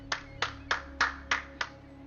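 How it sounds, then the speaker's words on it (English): Six slow, evenly spaced claps ring out, moderately loud and fairly close, over a steady low background hum with no talking. "You see, people begin to clap."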